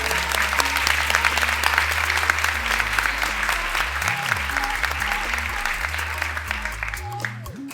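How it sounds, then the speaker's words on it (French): Sustained applause from a large audience fills the room, steady dense clapping with deep tonal sounds running underneath, tapering a little toward the end. "Vous pouvez vous applaudir aussi."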